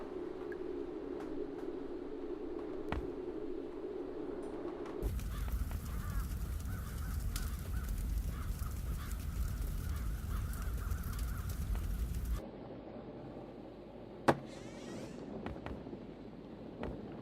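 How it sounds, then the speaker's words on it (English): Crows in the video game The Dark Eye caw in scattered harsh calls over a steady wind-like ambient bed, with a louder noisy stretch in the middle and a sharp click near the end. "Many crows."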